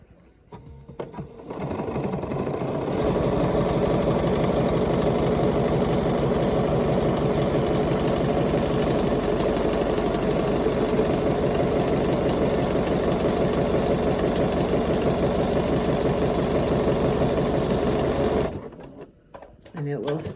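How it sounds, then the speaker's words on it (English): Bernina sewing machine stitches a buttonhole, running steadily with a fast, even mechanical whir for about fifteen seconds before stopping, with brief handling clicks at start and end. "now close that out and go ahead and stitch."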